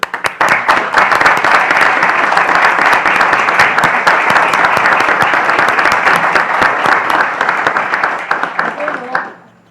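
Loud, dense applause from an audience at an anniversary ceremony for a professional examination, many hands clapping hard and steadily before tapering off and stopping abruptly at the end.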